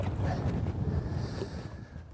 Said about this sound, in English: The wind's blowing across these points